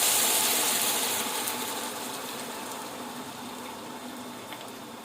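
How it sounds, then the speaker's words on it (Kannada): Boiled water is poured onto rice frying in a pan for ghee rice, starting as a loud rushing hiss of steam and bubbling that gradually fades and settles. "ಈಗ ನಾವು ಕುದಿಸಿಟ್ಟ ನೀರನ್ನು ಹಾಕೊಳ್ಳೋಣ."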